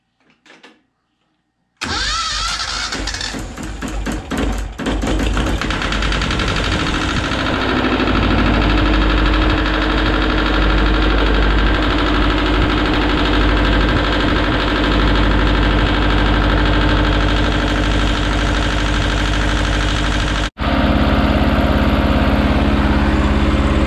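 Diesel engine of a Yanmar tractor cranks briefly and fires, then settles into a loud, steady running clatter close by that continues with a short break near the end.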